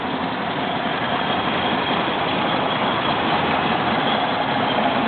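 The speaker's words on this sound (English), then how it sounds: "It's just idling." A 1987 Toyota Land Cruiser FJ60 engine idles with a steady, continuous low rumble, loud and close, with no talk over it.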